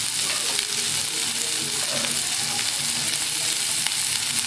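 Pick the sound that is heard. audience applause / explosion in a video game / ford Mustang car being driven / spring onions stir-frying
spring onions stir-frying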